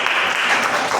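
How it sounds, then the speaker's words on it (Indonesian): Applause from a school audience at a middle school talk show, a brief steady burst of many hands clapping together with no voices over it. "Beri tepuk tangan."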